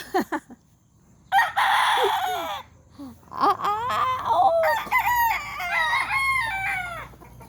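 Several fighting roosters crow in overlapping bursts, loud and close, with a hen clucking in between and a short crow near the start.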